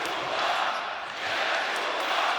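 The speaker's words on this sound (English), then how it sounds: "Crowd getting right in this now" Basketball arena crowd at a Eurobasket 2015 game between Lithuania and Belgium, a dense loud roar swelling and holding steady for a couple of seconds.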